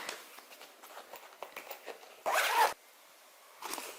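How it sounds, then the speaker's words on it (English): Zipper on a zippered pocket of a Tokidoki x Jujube diaper bag, pulled in one quick, close, fairly loud stroke lasting about half a second, set among soft handling rustles and brief taps. "right here there is a zippered pocket"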